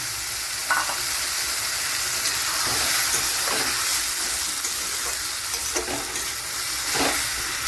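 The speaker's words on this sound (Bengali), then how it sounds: "এবার এটাকে খুব ভালো করে আমি ভেজে নেব যতক্ষণ না এদের কাঁচা গন্ধটা চলে যাচ্ছে।" A paste of ginger, garlic, green chili and onion with salt fries in oil for mutton bhuna, making a steady close sizzle and hiss with occasional scraping stirs.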